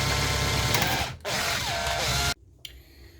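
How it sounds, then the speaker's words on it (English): An 8mm drill bit bores into a Jaguar XK8 headrest part clamped in a vise, a loud high whine that dips briefly, resumes, then stops abruptly, leaving quiet with a small click. "You get your 8mm drill"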